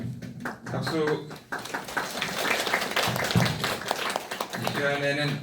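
An audience applauds during a church gathering at Seodaemun Church, a dense wash of clapping that fills the space while voices carry over it at the start and end.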